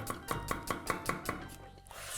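A knife chops onions on a board in about seven quick, evenly spaced strikes, close and moderately loud, then stops.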